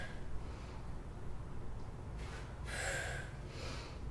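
Forceful exhaled breath during a reverse tuck crunch on a bench, a single audible breathy push standing out mid-clip over faint room noise.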